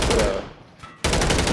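Dense, loud automatic gunfire in Call of Duty MW3, rapid rattling bursts that pause briefly and then resume at full intensity.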